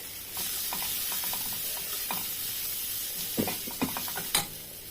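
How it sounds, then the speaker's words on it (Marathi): Soaked chana dal sautéing in a hot pan for a wild vegetable dish, a steady close sizzle with scattered scraping stirs and a few sharper clinks of a utensil toward the end. "भिजायला घातलेली जी चण्याची डाळ आहे ती आपण याच्यामध्ये टाकायची आहे आणि ती पहिल्यांदा चांगली परतून घ्यायची आहे"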